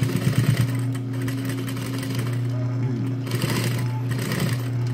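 An industrial sewing machine running steadily as it stitches a second pass over a seam on pants, a loud continuous motor hum and rapid needle chatter that hardly varies throughout.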